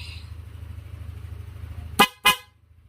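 A Korsa V3 snail horn gives two short, loud, sharp honks in quick succession, close by, after a low idling engine hum; no one speaks.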